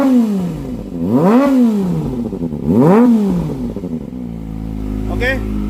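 Kawasaki ZX25R sport motorcycle engine revved hard twice, rising and falling in quick blips, then settling to a steady idle close by with a brief higher rev at the end.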